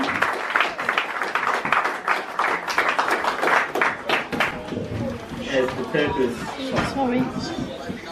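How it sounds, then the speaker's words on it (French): Audience at a Congolese Support Group celebration honouring Congolese mothers applauds a guest with dense clapping that thins out, while voices chatter and speak over it. "Sous vos applaudissements, s'il vous plaît"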